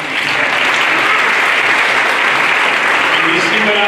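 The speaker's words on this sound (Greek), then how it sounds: "Θα λέγανε γύρω χειροκρότημα για τα παιδιά εκεί." Sustained applause for children at a Greek afternoon school celebration of the 25th of March 1821, a steady loud wash of clapping from a gathered crowd with a voice faintly present near the end.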